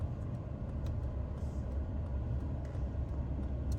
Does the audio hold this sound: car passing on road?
yes